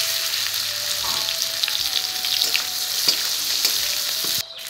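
Boiled potatoes and onions fry in a pan with a steady, dense, close sizzle that holds evenly throughout, then drops off suddenly just before the end, with no one speaking.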